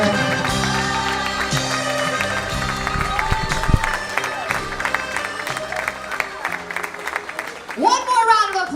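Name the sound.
wedding guests applauding bride and father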